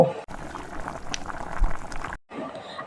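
Milk bubbles in a pan for white sauce pasta, a close, steady burbling simmer with soft popping bubbles, briefly cutting out twice.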